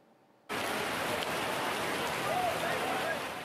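Heavy rain pounding on a polling-station tent, a dense, steady hiss that begins abruptly and continues loud and unbroken, with a faint squeak or two underneath.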